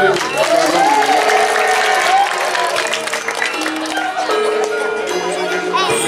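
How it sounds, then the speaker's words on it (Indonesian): An audience claps at a Balinese performance, with steady, dense applause running throughout, close and loud, mixed with voices and gamelan-like tones. "tepuk tangan"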